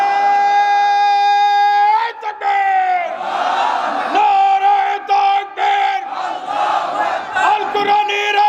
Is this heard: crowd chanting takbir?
yes